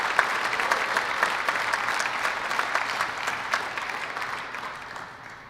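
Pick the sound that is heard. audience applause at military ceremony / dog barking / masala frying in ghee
audience applause at military ceremony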